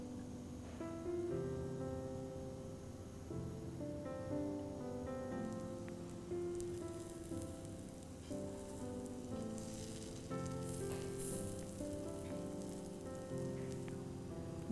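Moong dal pudla sizzles softly in oil on a hot griddle, a faint, steady crackle heard under background music.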